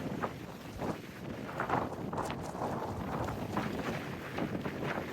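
Strong wind at a mountain viewpoint near Skyland Resort roars and buffets the microphone in a continuous close rush, with gusts swelling and easing and no talking.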